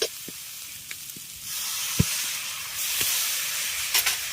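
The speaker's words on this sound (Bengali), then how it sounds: "এবার এর মধ্যে আমি অল্প পরিমাণে জল দেব" Water poured into a hot pan of Bengali banana flower curry with gobindobhog rice, giving a soft steady sizzle and hiss that swells partway through, with a few faint clicks of utensils.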